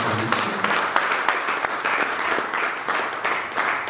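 A church congregation at a French-language worship service claps and applauds continuously, a dense, loud wash of many hands with a few cheers mixed in, sustained throughout.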